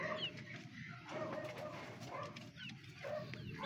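Soft pigeon coos repeat in the background, faint and low, among a steady murmur of ambient noise.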